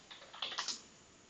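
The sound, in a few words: typing on a computer keyboard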